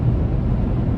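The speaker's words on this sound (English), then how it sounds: "wind noise is a bit intrusive right now" Steady broadband wind rush with low road rumble inside a 2017 Chevrolet Tahoe Premier with a 5.3 V8 and 112,000 miles, cruising on the interstate; continuous and fairly loud, with no talking.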